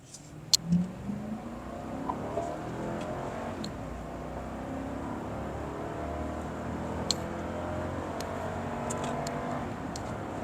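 A 2019 Toyota Land Cruiser ZX V8 accelerates hard in a pickup test, its engine note climbing in a steady, rising drone heard from inside the car, with a few faint clicks and knocks.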